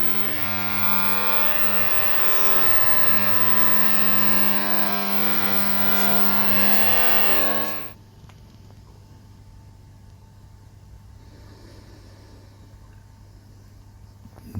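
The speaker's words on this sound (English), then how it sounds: "They are now about to go into the ultrasonic cleaner for 10 minutes." An ultrasonic cleaner runs with a steady electrical hum and a stack of tonal whine for about eight seconds, then cuts off abruptly, leaving only faint room noise.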